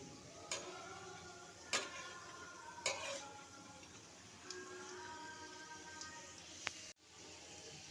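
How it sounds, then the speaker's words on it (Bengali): Prawns fry in hot oil with a faint, steady sizzle. Sharp clicks and scrapes of a utensil against the pan cut in now and then, and the whole scene is quiet and close. "তেল গরম হয়ে গেলে এবারে চিংড়ি মাছগুলো ভেজে নিতে হবে।"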